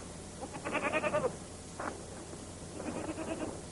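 A goat bleating in an African village setting, several wavering, quavering calls in short bursts with pauses between, moderately close over a faint background hiss.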